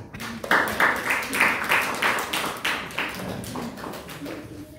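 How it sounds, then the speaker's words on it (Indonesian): Children in a classroom clap for a classmate named Firman in a steady, rhythmic beat, about two claps per second, fairly close and lasting several seconds. "Tepuk tangan buat Firman"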